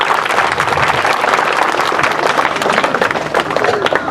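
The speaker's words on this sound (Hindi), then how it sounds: "जोरदार तालियों से स्वागत करते हैं।" Loud, dense applause from a crowd welcoming someone to a village gathering, rapid overlapping claps sustained throughout with a busy crowd texture.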